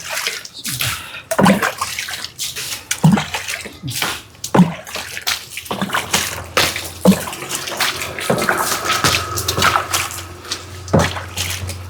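Water is poured over a vehicle in a flower-bath ritual, with repeated loud splashes and running water and a voice talking underneath.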